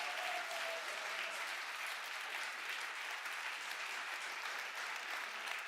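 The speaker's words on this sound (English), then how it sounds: "a group picture and a round of applause" Sustained applause from a large audience at a hackathon closing ceremony, a dense, steady wash of clapping at moderate distance with no pauses.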